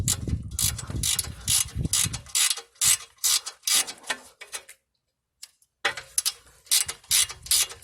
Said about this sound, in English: Just put your ratchet and just kind of tap on it